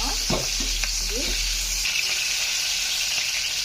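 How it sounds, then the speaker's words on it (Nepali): Onions fry gently in a pan, a loud continuous sizzle and hiss close by with stirring scrapes early on, then a smoother steady frying sound. "यसरी नै प्याज मजाले फ्राई गर्नुहोस्, हल्का हल्का मजाले फ्राई गर्नुहोस्।"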